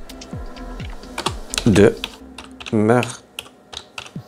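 Computer keys clatter in quick uneven taps as text is typed on a keyboard, close and crisp, with someone speaking French intermittently between the keystrokes.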